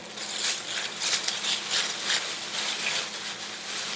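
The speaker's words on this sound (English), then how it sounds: "now what I'm going to do is cover my head with this plastic bag" Thin plastic bag crinkling and rustling close by as it is pulled over and around a person's head, a steady soft crackle with brighter crisp bursts throughout.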